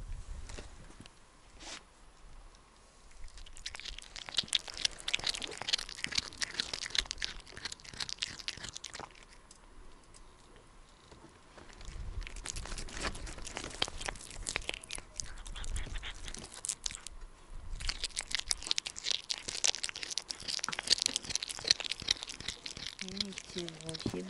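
A cat chews and eats raw burbot fish, with wet crunching and tearing bites in irregular bursts up close, while people talk quietly nearby.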